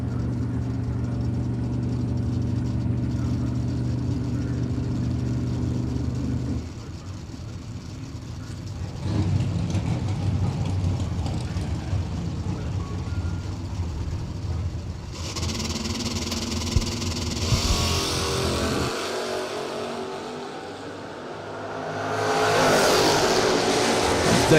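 Bracket drag racing cars roar down the strip at a drag race, loud engine noise shifting and surging across the clip with a brief quieter dip and rising revs near the end; no talk over it.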